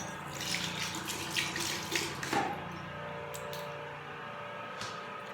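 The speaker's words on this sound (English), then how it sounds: "Let me rinse my hand." Tap water runs steadily into a sink while a hand is rinsed, heard faint and close with a few soft splashes and handling clatters.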